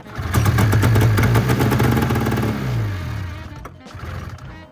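A 1998 Polaris 600 RMK snowmobile engine cranks in a cold start attempt, firing in a rough, loud sputtering burst that slows and dies away. A few weak, uneven pops follow before it falls quiet.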